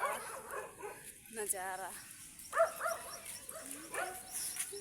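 A dog barks several times in short, sharp yips with a whimpering tone, close by, mixed with someone talking outdoors during the rainy season.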